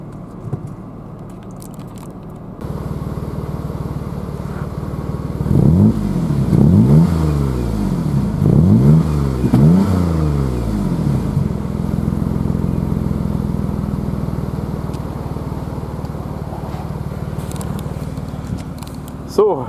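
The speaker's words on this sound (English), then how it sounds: "So this is also the nice exhaust sound." Jaguar X-Type 3.0 V6 AWD Sport revving through its exhaust, a run of several sharp rising throttle blips followed by a sustained idle rumble, close and loud.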